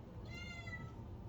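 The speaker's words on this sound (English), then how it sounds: "That's my cat, if you want to know." A domestic cat meows once indoors, a fairly faint, drawn-out call heard alone over a low steady room hum.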